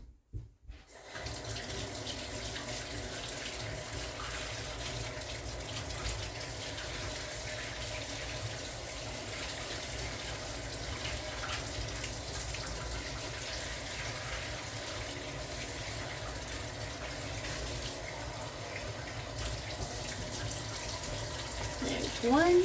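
Warm water runs steadily from a kitchen tap for measuring into bread dough, a continuous close splashing stream that holds at an even level throughout.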